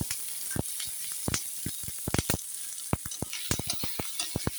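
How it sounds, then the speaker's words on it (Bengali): Whole spices frying in hot oil in a pan, giving sharp crackling pops and brief spits scattered irregularly over a steady background hiss, close and clear with no voices. "সুন্দর করে একটু ভেজে নিলাম মশলাটা"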